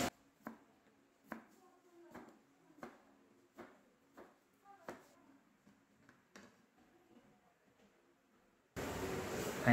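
A cook shows off knife skills, chopping food on a cutting board with about a dozen sharp, evenly spaced knocks in a quiet room, followed by a burst of loud hiss at the end.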